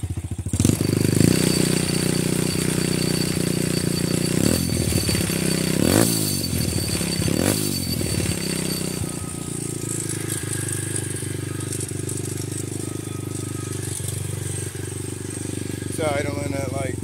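A small motorcycle engine, a Grom with a newly installed Nibbi carburetor, idles loud and close with a steady high buzzing drone and some clattering, while a person talks over it.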